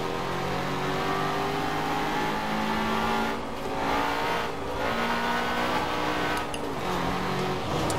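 A BMW M4 sliding out of control gives off a strained engine drone that rises and falls in pitch, with brief dips and tire noise as the car slips, heard fairly close and with no talking.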